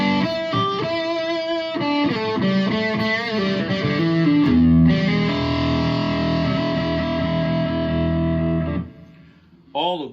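A Tom Anderson Icon Classic electric guitar in satin black, a Strat-style instrument with SC1 and SC3 pickups, vintage tremolo and maple neck, plays on the middle pickup through effects: bright chords and single notes that ring loud and close, then fade near the end.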